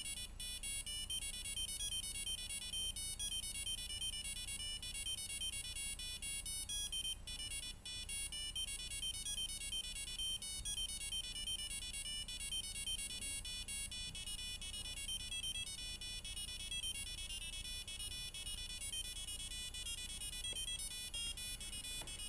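Arduino playing a melody as thin, high electronic beeping tones, a continuous rapid run of notes at low volume over a faint steady hiss.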